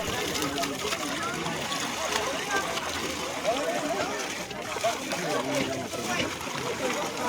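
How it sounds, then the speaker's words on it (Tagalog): Strong rushing water in Batangas splashes and churns steadily throughout, a loud, continuous wash with people talking over it. "Lakas ng tubig guys"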